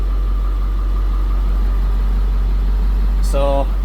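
A 2008 Blue Bird school bus diesel engine idles with a deep, steady rumble and faint whine, close and loud throughout, with a short voice near the end.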